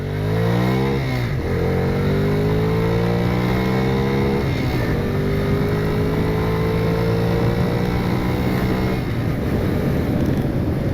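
A Bajaj Freedom 125 CNG motorcycle pulls away from a standstill on the road, its close engine note rising steadily through several gear changes, each marked by a dip before the pitch climbs again, with no speech.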